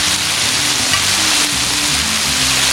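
Onions and jalapeños sizzling on a hot griddle for a brisket smashburger, a loud, dense, continuous frying hiss close up.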